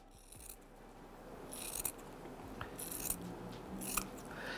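Scissors trimming a fabric seam on a patchwork block, several quiet, close snips with soft rustling of cloth between them.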